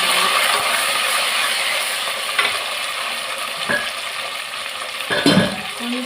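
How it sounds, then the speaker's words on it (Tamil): Chopped onion, garlic and curry leaves sauté in a pan with a loud, steady close-up sizzle and occasional scraping clicks from stirring, with no voices. "கொஞ்சமாக கட் பண்ணி வச்சுருந்த வெங்காயத்தை போட்டுக்கலாம், அதோட பூண்டு, அதோட கருவேப்பிலை, அதோட வதக்கிக்கலாம்"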